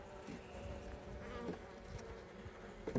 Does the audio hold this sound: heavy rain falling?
no